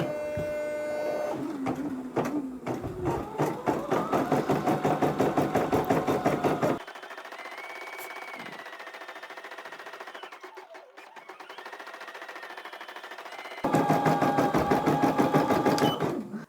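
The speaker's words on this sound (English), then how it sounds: "I've stopped the machine for a moment because I've just been watching how it's stitching out" A POOLIN EOC05 embroidery machine stitches a design with a rapid, even mechanical chatter of the needle, then changes to a softer whirring hum, then returns to fast stitching; close and steady, with no voices.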